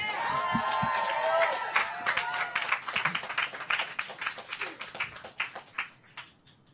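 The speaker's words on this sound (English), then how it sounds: "Let's give a round of applause for our amazing speakers." A crowd applauds speakers at a talk event, with dense clapping that slowly thins and tapers off, and some voices and cheering mixed in at the start.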